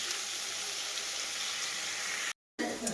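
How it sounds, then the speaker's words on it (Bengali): Potatoes frying in a pan with salt and turmeric give a steady, close hiss of sizzling oil. The sound cuts out briefly near the end, then resumes. "এখন একটু এগুলো ভাজা ভাজা করে নিই লবণ হলুদ দেওয়া হয়ে গেছে"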